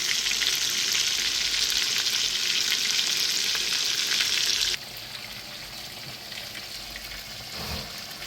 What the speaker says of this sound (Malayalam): പിന്നെ ചിക്കൻ ഫ്രൈ ഉണ്ടാക്കാൻ വെച്ചിട്ടുണ്ട്.